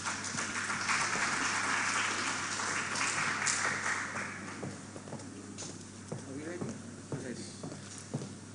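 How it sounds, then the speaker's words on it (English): Audience applause at a public presentation event, a dense wash of clapping loudest at first and thinning to scattered claps, with talk faintly underneath. "Please, another round of applause."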